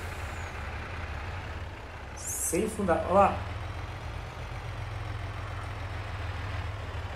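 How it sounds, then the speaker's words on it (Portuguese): A 500 hp truck engine in the Farming Simulator 22 video game drones low and steady throughout, with a brief hiss and a rising whine midway, while someone talks briefly over it. "Um caminhão de 500 CV, mano. 500 HP."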